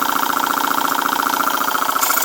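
A Boucher S62 steam engine runs on a CF2 boiler at 40 psi, giving a loud, steady, rapid rhythmic pulsing with a tonal hum, unbroken and close throughout.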